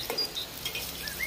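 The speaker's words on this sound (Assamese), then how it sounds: "পিঁয়াজখিনি অলপ গল্ডেন কালাৰ হোৱালৈকে মই ভাজি ল'ম" Onions frying in oil in a pot while being stirred with a spatula, a steady close sizzle with light scraping and clinks over a short stretch.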